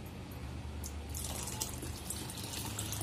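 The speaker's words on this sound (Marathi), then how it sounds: "थोडं पाणी टाकूया आपण, कारण सांबार जरा पातळच असतं" Water pours steadily into a pot of hotel-style sambar being cooked at home, a continuous close splashing stream that grows brighter after the first second.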